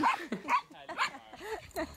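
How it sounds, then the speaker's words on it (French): A dog vocalizing intensely in a play call, with repeated yips and whining barks in quick bursts, close and fairly loud, with no talking. "Il y a eu un niveau de stress qui a augmenté très haut pour Léa, donc une vocalisation assez intense. Un appel au jeu."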